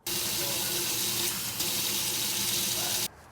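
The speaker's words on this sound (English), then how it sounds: "the first thing you have to do is wash it really good with soap and water." Tap water runs steadily into a sink while a broken fuel return fitting from a 6.7 Ford Powerstroke is washed with soap, a constant close hiss and splash that cuts off abruptly near the end.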